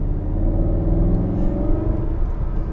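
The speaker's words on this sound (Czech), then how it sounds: "Jo, tady už ten osmiválec jde slyšet." Mercedes SLS V8 engine in Sport Plus mode, a deep steady rumble heard from inside the car, loud and continuous with no talking over it.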